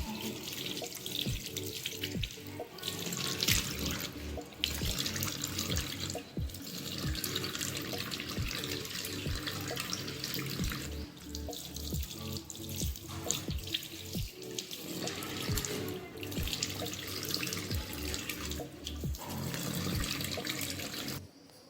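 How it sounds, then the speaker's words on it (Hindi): A tap runs steadily into a sink as someone washes their face at home, a continuous close splashing stream with small shifts as hands break the flow. "अब मैं फटाफट मुँह धो लेती हूँ।"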